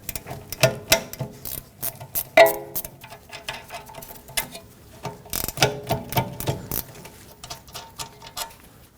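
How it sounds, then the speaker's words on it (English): A ratchet works loose the two 13mm bolts on the rear brake caliper of a 2014-2019 Toyota Corolla, producing close bursts of rapid clicking with short pauses between them and a few sharper metallic knocks. "On the backside of the caliper, you'll see 2 13mm headed bolts. Let's remove these."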